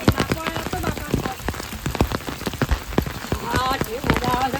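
Rain falls outdoors with a busy patter of drops striking surfaces, fairly close and continuous, while people talk over it.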